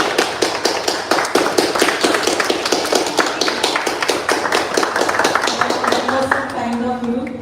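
An audience claps as a doctor is welcomed onstage at a women's health awareness lecture, with fairly close, distinct individual claps forming an uneven patter that fades near the end as a voice begins.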